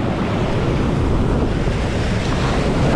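Ocean waves at a surf break during a very low tide wash in as a loud, continuous roar of surf, with wind buffeting the microphone throughout.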